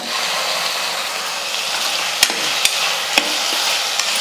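Onions and tomatoes sauté in a pan with a loud, even hiss close by, broken by a few sharp clicks of a spoon striking the pan near the end, with no voices.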